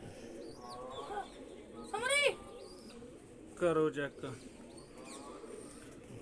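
Pigeons coo in a few bursts, with one louder warbling call near the middle and another later, while someone speaks quietly nearby.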